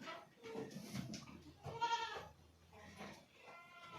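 Goat bleats from a Zaanen dairy goat farm with does, bucks and kids, a couple of wavering cries over a busy farmyard background with some nearby voices.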